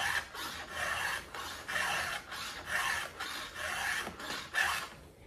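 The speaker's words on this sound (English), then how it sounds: "You're gonna have to file it again almost as soon as you start cutting." A file sharpening the teeth of a chainsaw chain, with about eight rhythmic rasping strokes back and forth, close and steady with short pauses between them.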